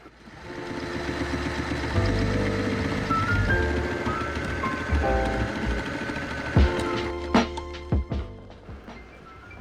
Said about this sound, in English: a few years ago I got a sewing machine that could handle this material